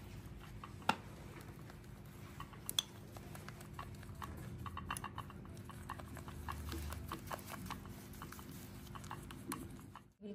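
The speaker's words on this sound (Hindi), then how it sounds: "अब इसको हम मिक्स करेंगे अच्छे से ताकि इसमें कोई भी लम्स ना रहे" Body polish paste being mixed in a bowl gives soft, quiet scraping and clicking from a utensil, with a few sharp taps against the bowl, faint and close over a low background hum.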